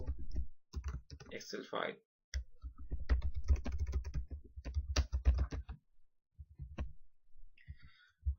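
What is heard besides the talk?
typing on a computer keyboard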